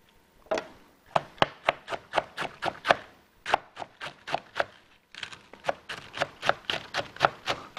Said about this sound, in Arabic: طبعا فيني افرم الملفوف كيف ما بدي